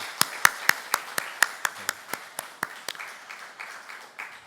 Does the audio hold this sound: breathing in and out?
no